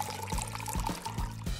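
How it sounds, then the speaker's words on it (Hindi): Boiling water poured into a cup of instant noodles, a steady liquid stream with a few soft gurgling pulses, close and moderately quiet with no talking. "उबलता हुआ पानी डालें"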